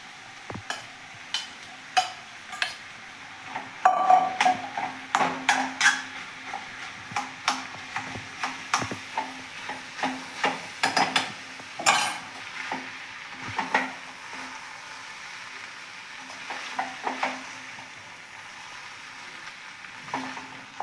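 Vegetable pulao rice gets gently mixed in a pan, with a long run of irregular spatula scrapes and knocks against the metal over a faint sizzle, close up and without voices.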